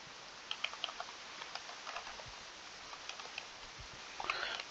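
Scattered key clicks from typing on a computer keyboard during a C# programming session, quiet and irregular with a brief faster burst near the end, no talk.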